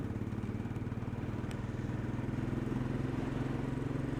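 A 2016 Royal Enfield Bullet 500 single-cylinder engine runs steadily at a low, even pulsing thump, fairly quiet and continuous with no talk.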